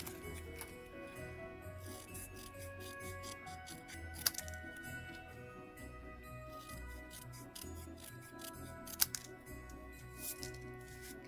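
Scissors snip steadily through a stamped, embossed Christmas card panel, trimming it into a small banner; close, crisp cuts repeat at an irregular pace with a couple of sharper clicks.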